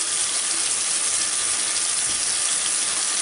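Water runs steadily from a tap to wet a makeup brush, a continuous bright hissing stream at close range, even and unbroken, with no talk.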